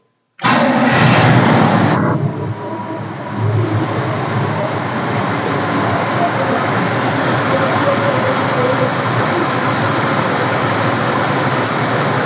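A carbureted engine, Holley Sniper versus GM Quadrajet, starts with a loud burst and then settles into a steady, rough idle that runs on close and unbroken without any talk.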